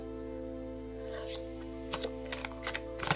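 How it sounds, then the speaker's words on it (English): Tarot cards of standard size being overhead shuffled by hand, heard as a series of soft, quick papery flicks and slaps that come in irregular bursts over a quiet steady hum. "I can't riffle shuffle for the life of me, so I'm just going to do a little overhead."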